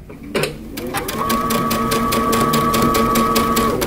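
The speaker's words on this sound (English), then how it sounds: "I'm just going to make sure as I'm sewing that all of my edges are lined up" Close sewing machine stitching a tee shirt seam at a 3/8 inch allowance, kicking in after a brief start and then running in one steady, even-paced hum to the end.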